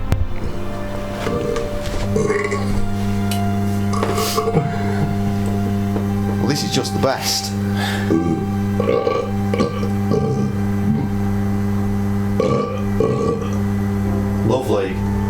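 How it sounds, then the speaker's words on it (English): Recorded human burps strung together as a collage in the game Broken Sword 2.5: The Return of the Templars, repeated loud belches in irregular bursts over a steady musical drone, with a voice speaking briefly. "If you listen closely, you will notice that the expert must burp, almost puke a few times."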